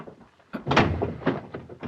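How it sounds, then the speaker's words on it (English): A door is shut with a solid thunk and a rattling latch in a 1938 film scene, the close, fairly loud knock followed by a few smaller clicks and bumps as it is secured. "Lock the door."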